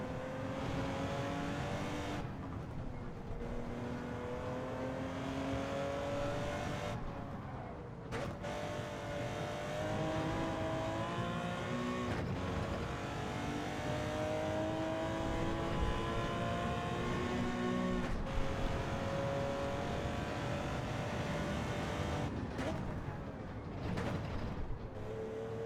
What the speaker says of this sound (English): This car sounds great, doesn't it?